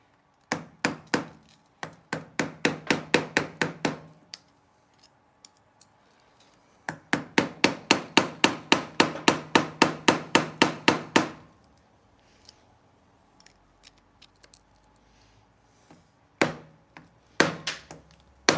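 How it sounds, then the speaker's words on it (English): A hammer strikes a motorcycle chain during a repair after a beach trip. Rapid, evenly spaced metallic blows come in two long bursts of about a dozen hits each, with a few scattered knocks near the end. "Hammer."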